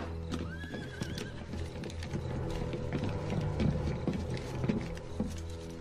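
Horses waiting in a street whinny loudly once, while hooves clip-clop in quick irregular beats close by over a steady rumble of movement.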